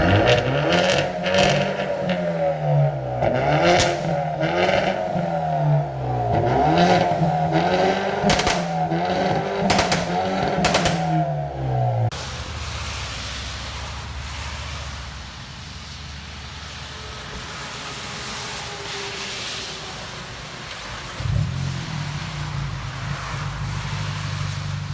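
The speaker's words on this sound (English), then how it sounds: "Give it gas. Again, just like rev it real good." A 2019 Hyundai Veloster N with straight pipes revs hard several times in a row, each loud bark rising and falling close by. It then drops to a steady rumbling idle and a lighter throttle blip comes near the end.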